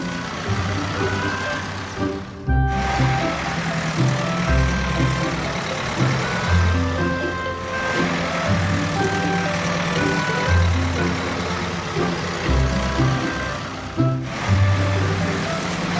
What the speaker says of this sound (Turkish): Traktörlerin üçü de hangardan çıkıyor.